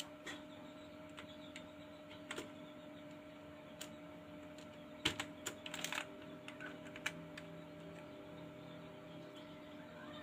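Computer keyboard keys tapped while entering Arduino code for a phone-controlled robot car, a steady run of soft clicks with a denser burst midway, close and quiet over a faint hum.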